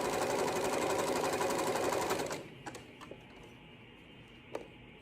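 A serger sewing machine runs fast and steady while overlocking a fabric edge, a loud mechanical whirr for about two seconds, then stops, leaving a few faint clicks and taps.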